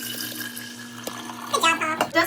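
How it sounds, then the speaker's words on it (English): Tea poured into a pitcher for homemade kombucha, a liquid stream splashing and gurgling that grows louder toward the end, with talk running underneath. "you pour the tea into the lantern"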